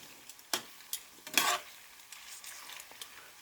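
Bacon deep frying in hot oil in a pan, a soft continuous sizzle broken by crackling pops and the scrape of tongs or forks moving the strips, close and fairly quiet.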